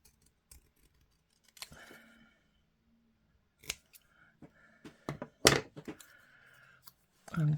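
Scissors snip through paper for a papercraft project, a scattering of crisp separate cuts growing denser and louder toward the end, close up, with brief moments of quiet between bursts.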